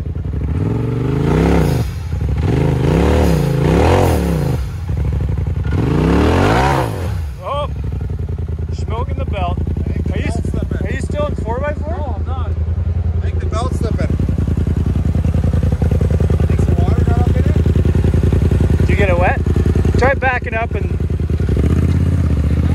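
Polaris RZR off-road vehicle driving through mud, its engine droning and revving loudly throughout with clattering, while people talk and shout over it.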